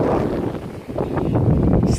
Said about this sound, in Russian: Смотрите, ветер дунул,